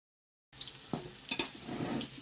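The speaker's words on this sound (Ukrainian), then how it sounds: "накриваємо кришечкою і на невеличкому вогні смажимо її" Quiet, steady sizzling of hake fish frying in a lidded pan over low heat, with a couple of soft clinks, heard up close after a brief silence.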